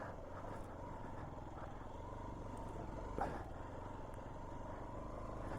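A motorcycle ridden along a broken, roadless riverside track on a ride toward Darjeeling, giving a steady close engine drone with rattling and a brief louder bump partway through; no talking.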